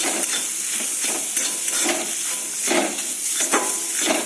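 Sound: ground pea paste frying in a pan

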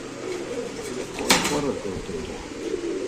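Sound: New Adel pigeons cooing in cage

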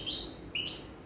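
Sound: recorded bird song from a cassette

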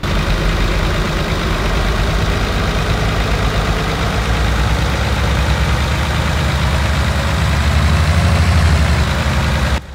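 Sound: truck engine idling in Farming Simulator video game

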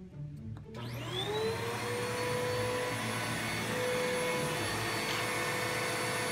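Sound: salvaged vacuum cleaner running as shop vac

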